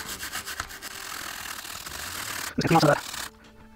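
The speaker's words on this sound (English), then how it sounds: "take a little alcohol and kind of scrub at this" A brush scrubs old leaked capacitor gunk off a Sega Game Gear circuit board with alcohol, making quick rhythmic rubbing strokes up close. A louder burst of scraping comes before it stops.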